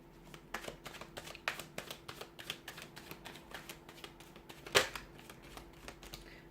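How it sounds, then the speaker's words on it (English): Tarot cards are shuffled by hand, giving a run of quick, soft riffling taps at a fairly even pace, with one sharper slap near the end. "we're going to give the cards a shuffle here"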